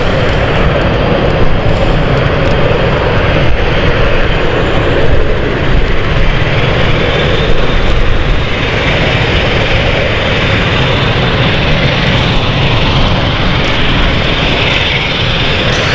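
Propeller aircraft engines start up and run at London City airport, a loud, steady broadband roar and drone that fills the whole stretch without pause and sits close to the listener.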